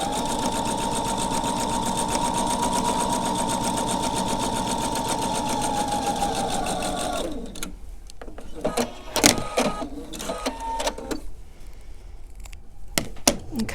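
Sewing machine stitching fabric in a quilting sampler session, running in a steady whirring rhythm for about seven seconds and then stopping, followed by clicks and handling noises.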